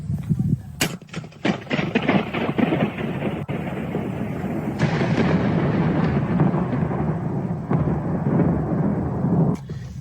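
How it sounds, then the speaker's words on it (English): Loud rolling thunder rumbles continuously for several seconds, with sharp cracking onsets early on followed by a sustained low roar that fades near the end, close and powerful. "So that's definitely what thunder sounds like."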